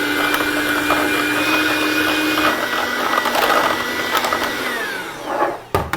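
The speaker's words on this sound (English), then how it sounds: "just beat that till it's light and fluffy. Should take 2 to 3 minutes with your stand mixer or your hand mixer" A stand or hand electric mixer beats butter and brown sugar for pumpkin pecan streusel bars, giving a steady, close motor whir with a sustained hum that runs unbroken and slowly drops in pitch before cutting off near the end.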